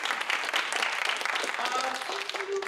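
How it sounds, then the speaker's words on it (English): Audience at an adult theatre school winter showcase breaks into a short round of applause, a brisk, fairly close burst of clapping that runs throughout, with a few voices rising near the end. "a round of applause for that too."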